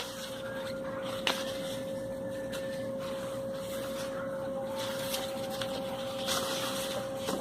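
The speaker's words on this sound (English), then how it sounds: "Stitching front to shoulder seams with slippery fabric." Sewing machine stitching front to shoulder seams on slippery fabric, a steady mechanical hum with a constant tone and light rhythmic clatter, quiet and continuous, with a couple of brief clicks.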